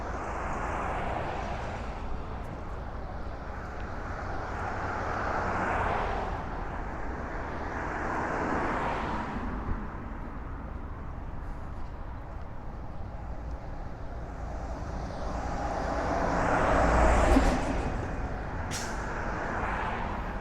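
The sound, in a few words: airplanes taking off and climbing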